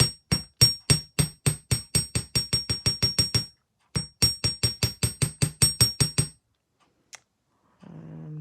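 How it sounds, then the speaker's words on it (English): Rapid, sharp metallic taps of a small hammer striking a wire loop on a wire-wrapped bracelet, about two dozen strikes in two quick bursts, then a brief rustle. "So now you will hammer this loop"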